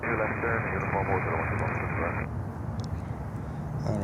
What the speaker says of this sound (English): this is American Airlines coming in from Puerto Plata